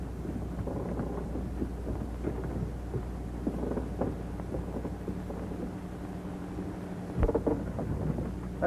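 A thunderstorm at sea rumbles as low thunder rolls under wind and rain, with scattered crackles and a sharp, louder burst near the end, steady and mid-distance without voices.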